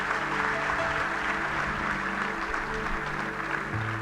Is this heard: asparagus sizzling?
no